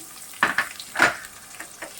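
Chopped onions hit hot oil for a chicken malai curry with a close crackling sizzle. Two louder bursts rise near the start as they settle and are stirred, then fade to softer frying.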